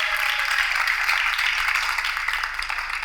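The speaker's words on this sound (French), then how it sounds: "On peut l'applaudir très fort." Audience applause on a French-language television dating show, a steady broadband wash of clapping that fills the whole stretch at moderate loudness, with no voices over it.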